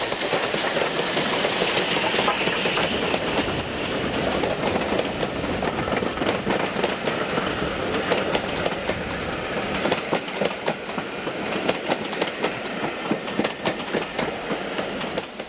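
A train double-headed by two steam locomotives, 76079 and 75014, rumbles past with steady clickety-clack of wagons over rail joints, loud and continuous with no voices.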